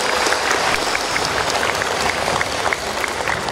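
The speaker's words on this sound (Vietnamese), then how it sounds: "Xin một tràng pháo tay chúng ta cùng được chúc nhau trong đêm hôm nay." Warm, sustained applause from a church congregation at a Christmas night mass, a dense, even patter of many hands clapping close and loud throughout, with no talk over it.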